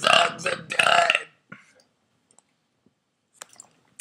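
A man lets out two loud, gravelly burps in quick succession, then near silence with a few faint clicks and small mouth noises.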